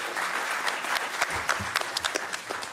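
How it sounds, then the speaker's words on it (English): An auditorium audience at a law book launch event claps in a brief, lively burst of applause, with a few sharper individual claps standing out near the end. "A round of applause for you who are so alert at 7 p.m."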